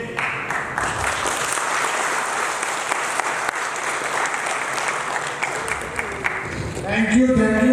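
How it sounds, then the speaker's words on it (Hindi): Loud, dense audience applause fills a hall at a blockchain business event in Raipur, Chhattisgarh, sustained and steady for several seconds before a voice starts speaking over its tail. "थैंक यू जहांगीर साहब, बहुत जबरदस्त जोरदार तालियां होनी चाहिए।"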